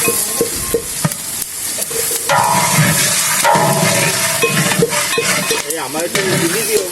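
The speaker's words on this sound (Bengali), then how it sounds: "এখন কিন্তু আমাদের সেই ডাউলটা দিয়ে দিচ্ছে যেটা একটু আগে ভাজি করা হয়েছিল" Lightly fried mung dal is tipped into a cooking pot and stirred at a wedding, with a steady sizzle and scraping stir running throughout while people talk in the background.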